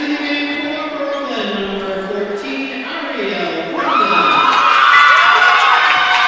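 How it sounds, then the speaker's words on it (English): Spectators at a Brooklyn College versus Yeshiva women's college basketball game cheer and shout from the stands. A small crowd yells steadily, then the cheering swells louder and more excited toward the end. "Williams with a particularly large cheering section just in front of us"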